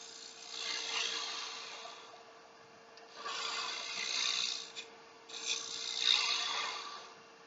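A woodturning tool with a carbide cup cutter scrapes and cuts wood on a lathe, held down on the tool rest, making a steady raspy rubbing sound in three long passes over a constant motor hum.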